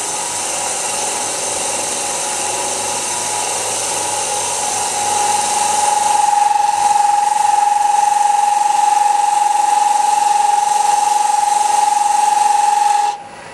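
Fingernail gouge cutting a turned wooden box or bowl bottom on a lathe: a steady, loud hissing shear that runs continuously, picking up a clear sustained whine partway through before stopping abruptly near the end.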